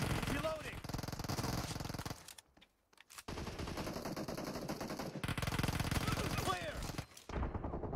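Rapid automatic gunfire in the video game PUBG, dense continuous bursts of shots with a short pause in the middle, loud and close, with players talking over it.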